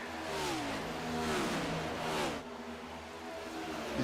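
Race car engines roar at full throttle in a sim racing game's oval series event at Charlotte Motor Speedway, several cars blending into a continuous loud drone with rising and falling pitch sweeps as they pass, and no talking.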